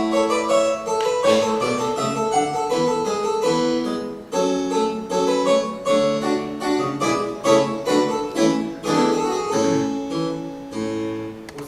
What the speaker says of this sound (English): You know what a harpsichord is,